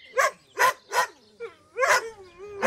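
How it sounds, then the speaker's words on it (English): Cartoon Dalmatians in a Disney animation give their twilight bark, a run of about five loud, close barks with short gaps, the last ones stretched a little, with no talk. "Pongo and Perdita are going to use their special twilight bark to tell all of the animals to look for Jewel."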